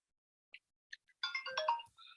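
A phone ringtone sounds during a call, starting as a few short chirpy tones, then a louder melodic burst of ringing, heard fairly close with no talk over it.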